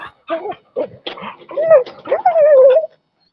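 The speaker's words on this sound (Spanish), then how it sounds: "Y un perrito, creo." A small dog whimpering in a series of short, high, wavering whines and yips that ends in one longer drawn-out whine, close and clear against a quiet room, then silence.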